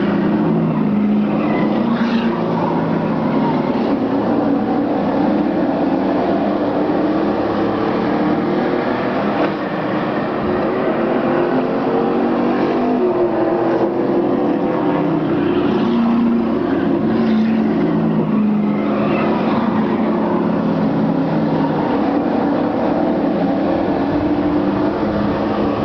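Late model sportsman race cars lap a track mid-race as a steady, loud engine roar with no pauses, blended into one continuous drone that swells only slightly as cars pass.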